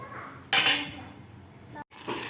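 Milk boiling down in a pan for kalakand, stirred with a utensil: a loud scraping stroke followed by a lighter one after a brief pause, with a low bubbling background between them.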